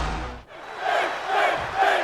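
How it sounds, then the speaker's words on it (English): A virtual arena crowd in the WWE 2K wrestling video game roars and cheers steadily, swelling into loud, continuous waves of noise before the bell. "the crowd firmly behind the Prince, Finn Balor"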